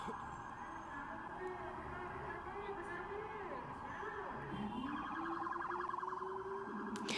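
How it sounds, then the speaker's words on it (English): Emergency sirens wail in the distance, rising and falling tones over busy New York street noise, with people talking nearby. "sirens in the background"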